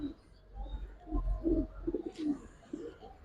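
Giribaz and coloured pigeons coo softly nearby, several low rolling calls repeating in quick succession against a quiet background.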